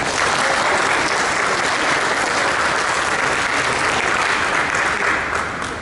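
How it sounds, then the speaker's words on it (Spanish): Strong applause from an audience at an archaeology and history lecture event welcoming the opening speaker, a dense, loud, continuous wash of clapping from many hands with no pause. "Recibiámoslo, por favor, con un fuerte aplauso."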